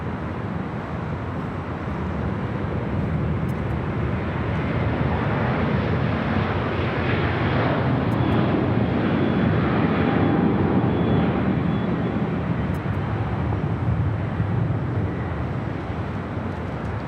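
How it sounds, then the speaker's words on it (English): A carbon fiber Airbus A350-900 rolls along a runway at LAX, heard from a distance as a broad, steady jet roar that swells slightly and then eases, with wind noise over the microphone. "we got that carbon fiber Airbus A350-900 rolling down to 25 at right"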